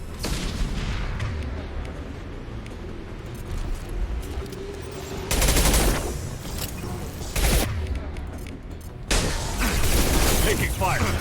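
Gunfire in the Mass Effect 2 video game, with bursts of loud rapid shots crackling in several clusters over a rumbling mechanical battle background, sporadic and close.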